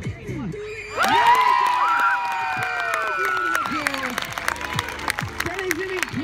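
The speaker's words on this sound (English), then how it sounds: "If she doesn't get the catch, give her a massive cheer." A crowd at a disc dog stunt show cheers and claps loudly, with shouts, whoops and children's voices rising over sustained applause, and an announcer's voice audible throughout.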